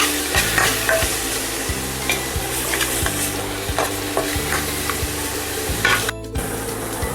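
Soya chunks masala frying and being stirred in a pan, a steady sizzle under repeated scraping strokes of a spoon or spatula, close and fairly loud with a brief pause near the end.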